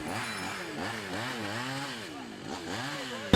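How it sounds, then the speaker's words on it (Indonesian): A chainsaw cuts through a fallen tree on a roadside, its engine rising and falling in repeated revving surges that dip and climb throughout, loud and close, with no talking. "memotong pohon yang tumbang itu dengan gergaji mesin"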